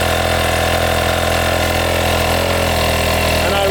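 A motorcycle engine runs close and loud at a steady throttle, its drone holding even before the revs sag slightly toward the end.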